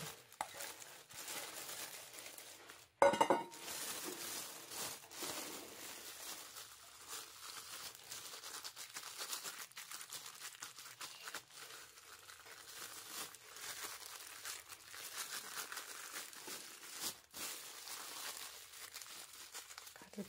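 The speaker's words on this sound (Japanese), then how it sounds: "これを全部ビニール袋の中に入れて" Boiled bamboo shoots tipped into a plastic bag, with a sharp rustle followed by continuous close, soft crinkling of the plastic.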